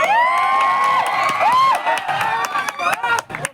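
Lively crowd at a devotional Meldi Maa mandvo celebration, cheering and whooping with scattered clapping and children's shouts, loud and continuous, with a voice calling out over the noise.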